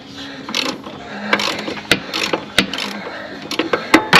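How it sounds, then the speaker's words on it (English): A 3/4 inch wrench works a bolt on the idler pulley of a 52-inch Wright Stander mower, giving metallic ratcheting clicks and sharp knocks at close range, irregular and fairly loud. "We'll put a 3/4 inch wrench on the top and just loosen our bolt."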